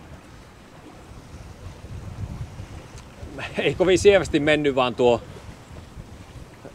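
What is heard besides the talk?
strong wind and waves on sailboat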